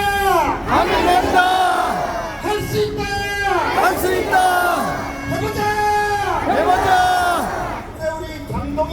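A large political rally crowd in Gumi, South Korea, shouts a slogan in unison after a leader's call, in loud repeated bursts with sustained voices and rhythmic pauses, with babble and cheering around them.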